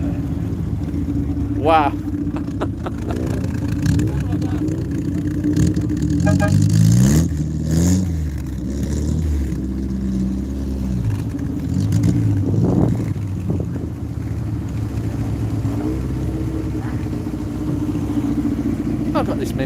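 Cars revving and racing away at a car meet, engines rising and falling in loud bursts with a strong low rumble, mixed with crowd chatter and a voice speaking close by throughout.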